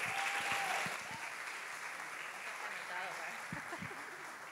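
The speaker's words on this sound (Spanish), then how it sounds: "decimos con un aplauso a nuestra alumna de canto, a Yelén Velázquez" Steady audience applause for a voice student at an end-of-year music school concert, sustained and even throughout, with a voice faintly audible over it.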